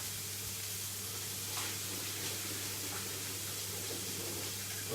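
Cooked ravioli being strained, with simmering water pouring off in a steady, soft rushing hiss at close range and a brief swell partway through, no talk.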